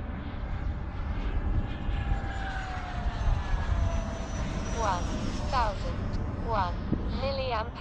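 A Freewing Avanti RC jet with a 1920kv motor on 8S runs at full throttle, a steady loud whine and rushing roar that holds throughout, with brief whistling chirps near the end.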